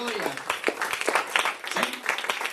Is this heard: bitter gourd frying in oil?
no